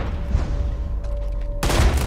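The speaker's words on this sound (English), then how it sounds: "I wanted to shoot the gun out of his hand" A single loud gunshot bursts out near the end in the video game Red Dead Redemption 2, following a quieter stretch with a steady tone.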